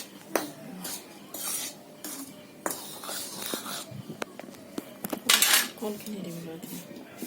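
Rice flour that has been dry-fried is stirred with salt in a pan, giving a run of close scraping, clinking and knocking sounds of a utensil against the metal pan, irregular and moderately loud, with no talk.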